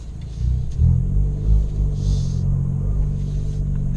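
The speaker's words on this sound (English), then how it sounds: "The exhaust sounds fantastic." Fiat 500 Abarth exhaust while driving, a steady deep rumble with low engine drone and mild swells as the small car pulls along, close and continuous with no talking.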